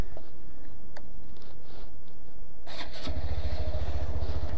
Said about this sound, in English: It's so quiet because of this stock exhaust